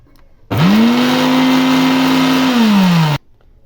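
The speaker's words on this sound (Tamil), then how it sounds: "இப்போ இது மிக்ஸி ஜாரில் சேர்த்து அரைச்சிக்கணும்" A mixer grinder motor whirs loudly for about three seconds while grinding a homemade hair dye mix of onion, almond, coconut oil and mustard seed, starting abruptly with a rising pitch, holding steady, then cutting off.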